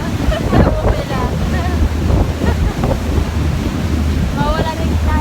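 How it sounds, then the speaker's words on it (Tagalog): Big sea waves slap and rush around a small boat riding at night off Al Ghubaiba in Dubai, heavy wind buffeting the microphone throughout while voices talk faintly underneath. "Nawala gutom ko sa lalaki ng alon."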